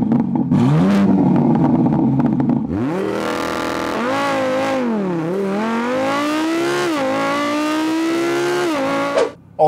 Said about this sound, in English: the car sounds just amazing